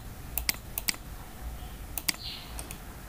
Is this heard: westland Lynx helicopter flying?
no